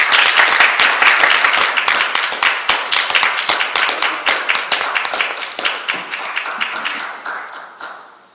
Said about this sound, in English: help me give a good, rousing hand of applause for Ernie Panza as he comes.